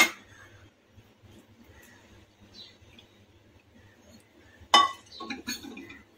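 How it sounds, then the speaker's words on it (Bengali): Yeast and sugar are stirred into warm water in a glass, mostly soft scraping and then a sharp clink of the utensil against the glass followed by a few lighter taps, close and quiet. "এই দুটোকে আমি একসাথে উষ্ণ গরম জলে ভিজিয়ে রাখবো।"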